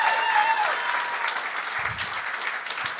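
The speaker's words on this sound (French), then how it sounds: "J'aimerais ça qu'on lui donne une bonne main d'applaudissement." An audience applauds a guest on a French-language talk show, sustained dense clapping filling the whole moment, with some whoops and voices mixed in.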